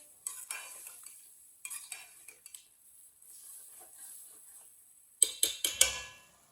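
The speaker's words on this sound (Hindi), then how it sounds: "अच्छी तरह मिक्स कर लेंगे।" A spoon scrapes and knocks against a pot while chicken and pumpkin curry is stirred and mixed, quiet clinks in short bursts over a faint background, ending with a few louder clanks.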